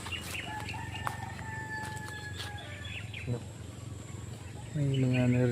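Roosters crow in the distance over a busy outdoor background of birds and animal noises, with a louder, closer call near the end.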